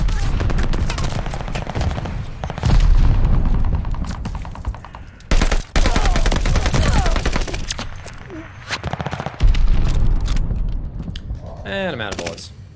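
Video game combat with rapid machine-gun bursts, sharp gunshots and heavy booming blasts that fit a grenade explosion, loud and continuous with short breaks, while a player talks over the action.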